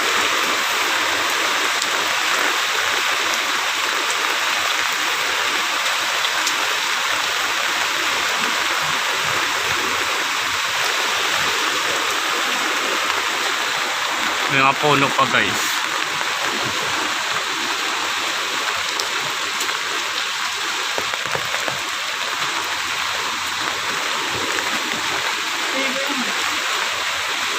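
Rushing floodwater from Typhoon Corina flows in a steady, loud broadband roar throughout, with voices talking briefly over it.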